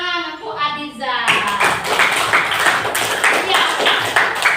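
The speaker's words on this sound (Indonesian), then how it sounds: "Oke, tepuk tangan untuk Abizar." Pupils in a classroom clap for a classmate: a voice speaks briefly, then a burst of close, brisk group clapping follows in a loose rhythm of overlapping hand claps.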